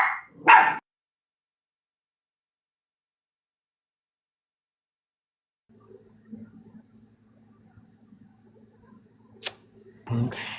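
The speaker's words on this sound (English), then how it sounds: "That's what they're barking about." Dogs bark in a short close burst, then after a long silence a low hum and soft rumbling noises lead into another loud bark at the end.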